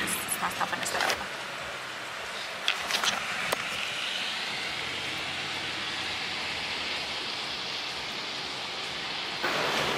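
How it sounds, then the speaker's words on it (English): Steady rain falling on a New York City street, a broad even hiss that runs through the whole stretch, with brief voices and passing clatter near the start and a louder burst at the end. "Of course, it's still raining, but that's it."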